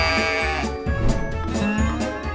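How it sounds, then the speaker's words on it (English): A sheep bleats in a series of wavering, nasal calls, loud and close, with short pauses between them. "This is a sheep."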